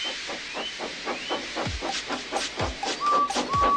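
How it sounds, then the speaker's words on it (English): A steam engine puffs in a steady, rapid rhythm of short breathy bursts, with a continuous hiss of escaping steam and faint high whistling tones above. "made lots of steam, and Edward puffed away."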